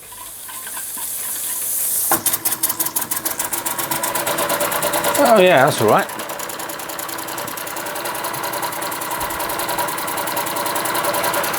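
An Empco B-43 model steam engine starts chuffing in a rapid, even rhythm, hissing and clattering steadily, with a brief spoken remark over it.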